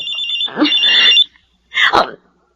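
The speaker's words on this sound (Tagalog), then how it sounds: "Si Alma, tumatawag sa cellphone ko" A cellphone rings loudly and close: a warbling electronic ring burst, a short pause, then a second burst.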